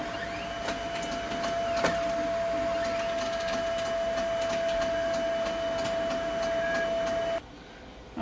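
A BN-20 printer-cutter runs with a steady mechanical whir, a sustained tone and small ticks of moving parts, close and continuous, then drops suddenly quieter near the end.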